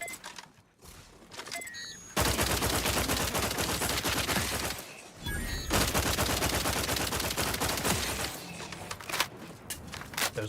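Long sustained bursts of assault rifle fire in Outer Worlds, loud and close, in two extended volleys separated by a brief pause, with scattered shots trailing off near the end.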